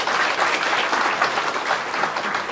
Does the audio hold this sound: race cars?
no